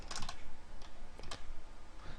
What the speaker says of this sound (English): Notice how when you start typing,